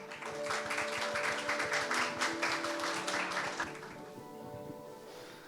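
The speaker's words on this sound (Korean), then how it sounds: "큰 박수로 환영 부탁드리겠습니다" An audience at a Korean energy policy seminar opening ceremony claps steadily to welcome the institute director to the stage, a dense sustained round of applause that fades toward the end.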